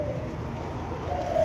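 A pair of pigeons coos softly close by, low murmuring calls rising slightly toward the end over a steady background hum, with no talking.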